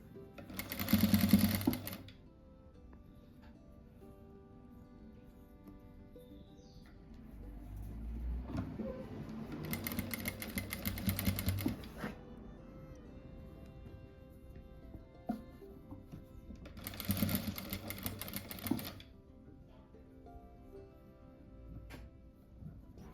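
A home sewing machine stitching knit t-shirt fabric runs in three bursts of rapid, even mechanical chatter, each a couple of seconds long, separated by quiet pauses with faint handling and room noise.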